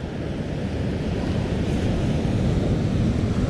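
A set of ocean waves rolls in and breaks on a beach, a loud, steady roar of surf and white water close by, with wind buffeting the microphone and no voices.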